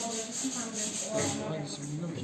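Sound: hand sanding a wooden piece with sandpaper

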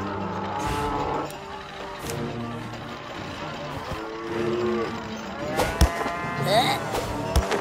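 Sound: cows mooing, Nazi cow minions in South Park: The Stick of Truth video game

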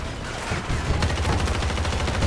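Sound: gunfire in the video game Battlefield 2042

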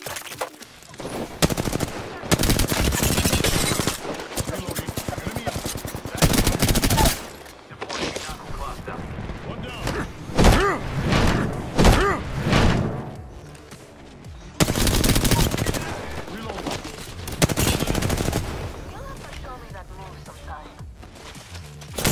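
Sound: gunfire in the video game Apex Legends

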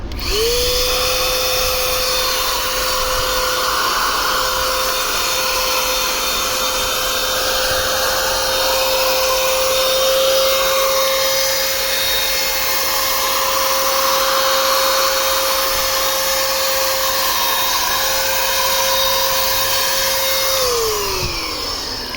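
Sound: Revolt BSG 20/1 cordless paint sprayer spraying water

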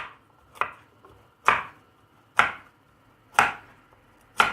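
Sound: chopping carrots with a knife

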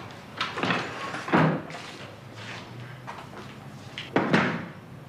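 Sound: door being shut

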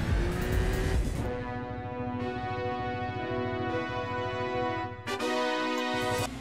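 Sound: race car driving to the finish line in Gran Turismo 4 video game

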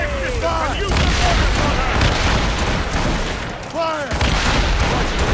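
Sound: ship cannon fire in Assassin's Creed Rogue video game

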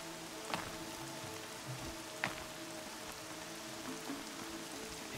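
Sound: rain falling in the video game Horizon Zero Dawn

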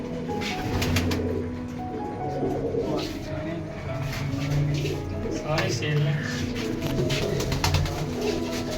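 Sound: pigeons cooing

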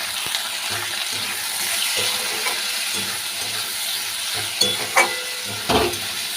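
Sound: spice paste frying in pan for oyster curry

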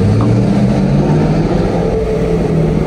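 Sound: sports car engine sound

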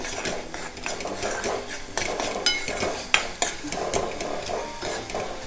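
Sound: sautéing clam masala with turmeric in a pan

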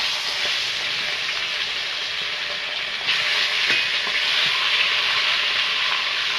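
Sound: fish frying in hot oil

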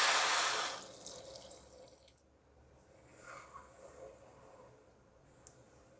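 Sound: water poured onto sugar for syrup

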